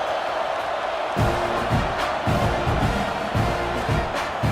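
A stadium crowd roars in a college football video game featuring Oklahoma against Texas A&M, a steady wash of cheering with rhythmic swells and thumping chants that rise and fall several times.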